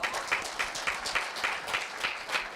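Audience applause at a Korea University middle school speech festival, a steady patter of hand claps from a seated crowd, fairly close and even in rhythm, without speech over it.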